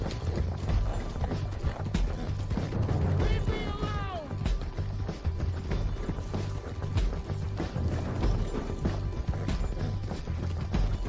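In Red Dead Redemption 2, a horse gallops with a continuous rhythmic hoof beat and busy game ambience throughout, while a high swooping call rises briefly near the four-second mark.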